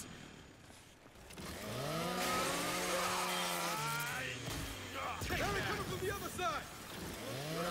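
In the Gears 5 video game, a chainsaw revs and grinds loudly, its pitch climbing and wavering over several seconds amid combat noise, with a rough rasping texture.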